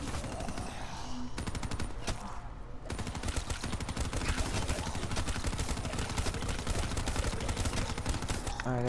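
Dingo machine gun firing nonstop in Black Ops 3 zombies on the Nacht der Untoten map, a dense, loud, rapid burst lasting nearly the whole stretch, with game music and effects underneath.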